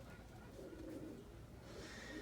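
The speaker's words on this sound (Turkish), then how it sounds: "Çünkü çok güzel kuşlar bakın arkadaşlar." Soft, low cooing from pigeons sounds faintly in a quiet space, a couple of gentle murmuring calls over a faint background hiss.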